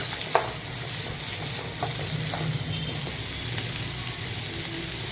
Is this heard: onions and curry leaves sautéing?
yes